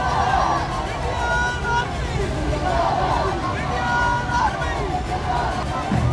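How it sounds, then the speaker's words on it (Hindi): A large crowd lines both sides of a village road as a funeral procession passes, giving a dense, continuous murmur of many voices and chatter at moderate distance. "भारी भीड़ का हुजूम था।"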